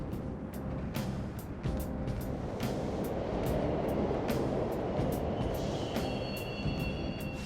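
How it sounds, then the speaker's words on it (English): Subway trains run through a tunnel in the video game Persona 5 Royal, a steady rumbling roar with rhythmic clacks and faint metallic squeals, moderately distant and without voices. "The trains are totally running!"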